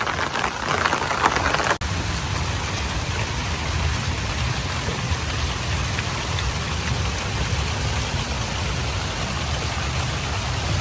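Steady rain falls in a village on a wet day, a dense constant hiss and patter of drops with a brief louder knock early on, with no one talking.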